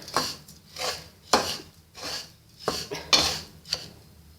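A spoon scrapes and rubs through thick mawa halwa in a pan as sugar is mixed in, made with desi ghee for cheerh halwa; about six close, steady stirring strokes, each a gritty scrape.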